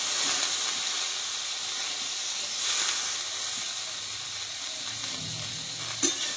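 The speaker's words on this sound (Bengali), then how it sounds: "এবার এখানে ধুয়ে রাখা নিম ফুলগুলো আমি দিয়ে দেবো।" Washed neem flowers hit already-fried potatoes in a pan, raising a steady, close hiss of sizzling that holds throughout, with one small clink near the end.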